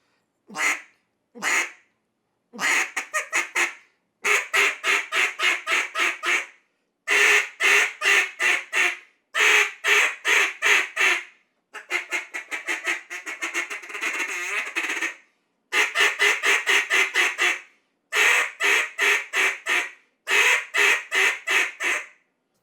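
A cut-down style duck call blown in rapid series of raspy quacks, loud and close, with short pauses between each string of calls.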